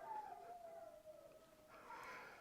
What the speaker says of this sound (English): my dogs are barking outside.